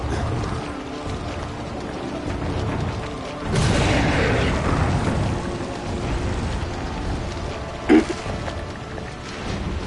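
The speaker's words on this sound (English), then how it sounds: "It's cooler to shoot him with rocket launcher." A rocket launcher blast in the Resident Evil 4 remake, a sudden loud boom that swells and rolls off over a couple of seconds, followed later by a short sharp crack, over a steady game background.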